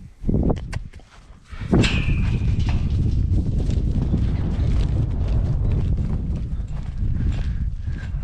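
A bull walks out across the ground, its hooves thudding in an uneven clopping rhythm close by, with wind buffeting the microphone throughout.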